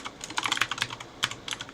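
Fast, uneven keystrokes on a computer keyboard while entering a terminal command during an Arch Linux graphical setup, close and clear, no voices.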